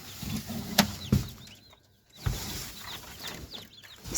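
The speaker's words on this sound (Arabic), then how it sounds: "في كتاكيت بتصرخ في الفقاسه لسه" Chicks peeping inside an egg incubator, with Hijazi chickens being raised: scattered high, thin chirps rise and fall across the clip, mixed with a few soft thumps and rustles, fairly near and modest in level, with no talking.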